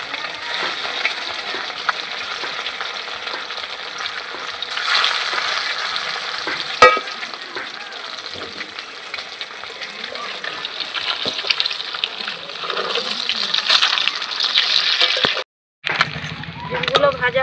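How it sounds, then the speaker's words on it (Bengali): Boiled eggs frying in a pan of oil with salt and turmeric, a steady close sizzle and spatter with occasional stirring, heard beneath a person talking. "ডিমগুলো অল্প ভাজা করবো।"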